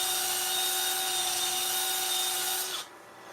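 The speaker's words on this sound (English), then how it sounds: "When you sand this, the color starts to come out even more." Sandpaper rubs against a wooden bowl spinning on a lathe, making a steady, loud hissing whir with a constant motor tone that drops away abruptly near the end.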